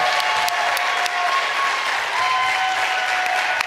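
An audience at an Open House Ministries evening event gives a round of applause, dense steady clapping from many hands filling the whole stretch at close range.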